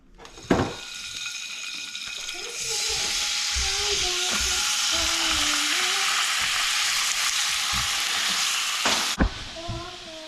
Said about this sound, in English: so the tofu is frying up